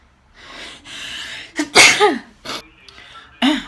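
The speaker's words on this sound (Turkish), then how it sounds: "ay hapşırık geliyor galiba." A person with a cold sneezes at home, with a few sharp inhaled breaths building up before one loud, close explosive sneeze, followed by a shorter burst.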